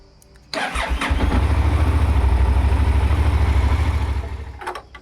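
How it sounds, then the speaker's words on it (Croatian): A Yamaha TDM 900 motorcycle engine starts with an abrupt catch and settles into a steady, loud idle to warm up before an oil change, with a clunk near the end, no talk. "Za početak upalit ćemo i zagrijati motor."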